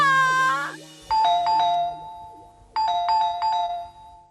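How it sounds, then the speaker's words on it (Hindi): Two-tone electronic doorbell chimes ring out clearly in a domestic setting, several ding-dong chimes in quick succession, loud and close, with a short pause between two bursts of ringing. "बज बज के कब से डोरबेल बज रही है"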